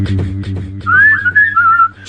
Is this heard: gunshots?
no